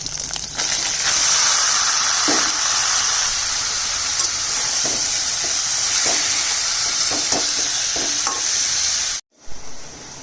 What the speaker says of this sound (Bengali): এবার ছোটো করে কেটে রাখা লাউটা দিয়ে দিচ্ছি